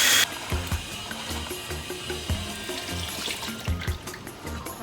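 Tap water running steadily into a sink while moringa pods are washed, a continuous close hiss with occasional knocks and splashes as the pods are handled, no speech.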